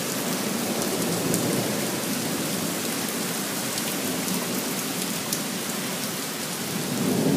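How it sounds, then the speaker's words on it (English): Steady, heavy daytime thunderstorm rain pours down continuously at close range, a dense hiss that holds evenly throughout and swells slightly at the end, with no voices. "That was a very impressive storm."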